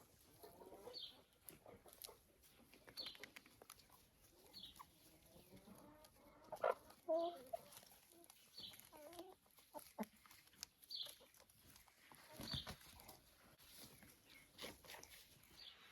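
Rooster and hens in a coop of young laying chickens, with repeated clucks and short calls scattered throughout and one sharper, louder call near the middle, heard close and without talk.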